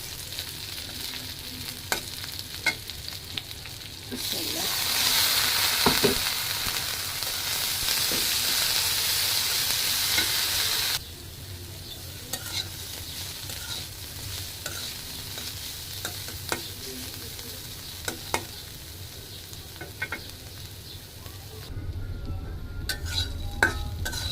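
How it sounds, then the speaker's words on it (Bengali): Sliced teasel gourd fries in oil in a pan, a steady sizzle with occasional stirring scrapes and a louder, hissier stretch in the middle, with no talking. "এই যে কাঁকরোল ভাজি করছি"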